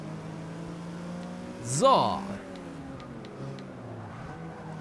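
A Porsche race car in Forza Motorsport 6 sweeps past with a rising, then falling engine whine and a short burst of revving near the middle, over a continuous engine hum, while someone speaks briefly.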